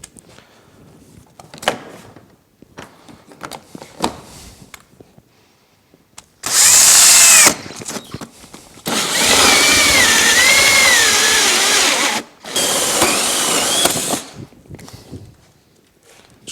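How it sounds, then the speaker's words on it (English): A hole saw on a drill bores holes in Ski-Doo 700 REV snowmobile side panels in two loud bursts of whirring and grinding, with quieter handling clicks and knocks before them. "I am going to use a hole saw. I'm going to punch 2 holes out in each one of these panels."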